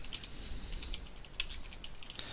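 Rapid keystrokes on a computer keyboard as a web search is typed, a steady run of light clicky taps close up with a few sharper key hits, no voices.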